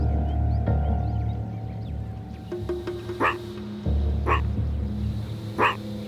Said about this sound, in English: The bark means, don't panic, the threat is distant.